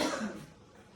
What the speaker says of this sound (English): So that cough was a sign that it is gonna be freaking spicy